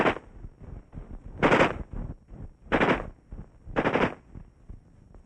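An M-16E1 rifle fires four sharp bursts of automatic fire, spaced about a second apart, each a loud crackling volley with quieter gaps between.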